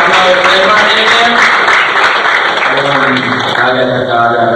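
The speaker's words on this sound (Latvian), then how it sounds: "Aplausi maniem!" An audience in a Latvian studio game show applauds steadily and loudly throughout, with a voice calling out over the clapping.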